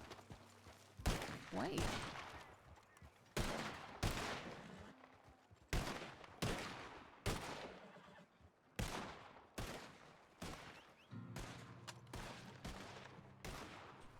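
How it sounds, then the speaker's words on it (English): Gunshots in the RedM roleplay video game ring out as a steady series of a dozen or so sharp, loud cracks spaced about a second apart, each with a short decaying tail, and a brief spoken word at one point. "I need to fire off a few shots."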